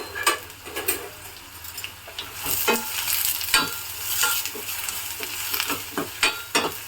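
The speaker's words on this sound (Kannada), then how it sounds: "ಇದು ಚೆನ್ನಾಗಿ ಫ್ರೈ ಆಗಲಿ" Egg gravy masala sizzles in a pan while a spoon stirs and scrapes through it in repeated, uneven strokes, close up with no voices.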